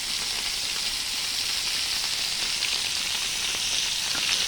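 Fish frying in a pan: a continuous bright sizzle with fine popping and crackling, steady and close, heard alone without any voices.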